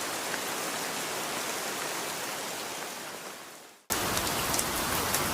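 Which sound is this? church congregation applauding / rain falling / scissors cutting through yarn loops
rain falling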